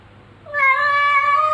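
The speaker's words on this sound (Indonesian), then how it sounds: "Kucing ya teman-teman ya." A domestic cat lets out a single drawn-out meow, close and loud, rising in after a quiet moment and holding steady to the end with no talk over it.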